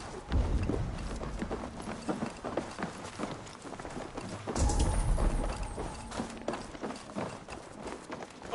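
Hooves of a galloping horse in Assassin's Creed Valhalla, a fast steady clip-clop beating close and loud throughout, with a brief swell of movement and tack noise midway.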